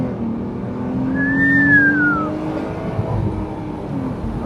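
A BMW Z3 roadster with nearly 200 horsepower and a 25% limited-slip differential accelerates hard, its engine note rising and swelling at close range before settling into a steady drone.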